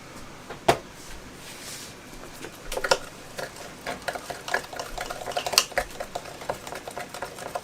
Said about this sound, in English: I'm going to give this a stir, and I'm going to use for this a stirring rod